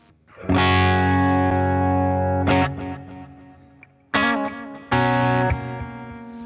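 An electric guitar runs through Bias FX Live with delay effects, sustaining a long ringing chord, then sharper struck chords whose echoes trail and fade.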